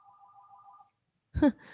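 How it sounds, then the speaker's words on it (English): A telephone rings in a quiet room, two short warbling trills in quick succession, fairly clear, then stops and a brief sigh or breath follows. "Your actual phone is ringing?"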